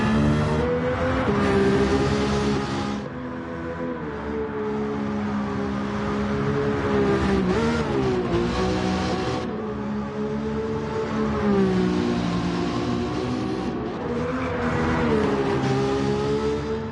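Nissan Skyline R34 GTR V-Spec II Nür '02 engine in Gran Turismo 7, revving hard and steadily, rising and dipping with gear changes throughout, loud and continuous with no talk over it.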